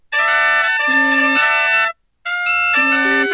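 Loud electronic keyboard chords from a Minecraft music mod played in a few sustained blocks, cutting off briefly into silence before another chord sounds.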